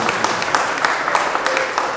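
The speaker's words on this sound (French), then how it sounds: "Si on peut l'applaudir aussi, le recevoir." Applause from an audience at a music press conference in Kinshasa, a short burst of scattered, fairly close hand claps with people talking under it.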